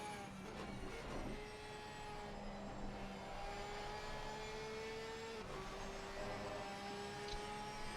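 Racing video game car engines drone and whine at the Zandvoort circuit, a steady mechanical tone with rising and falling pitch sweeps, heard faintly and alone without speech.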